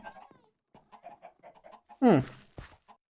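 Minecraft chickens clucking at an egg farm, a few soft short clucks early on, then a loud squawk near the middle followed by another burst, with nobody talking.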